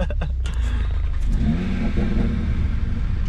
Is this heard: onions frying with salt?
no